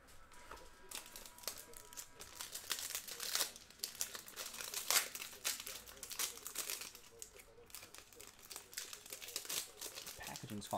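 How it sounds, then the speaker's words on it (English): Plastic packaging on a 2020 Topps Five Star Baseball trading card pack crinkles and tears in quick irregular bursts, close and fairly quiet, with a little background voice. "Packaging's falling apart on me."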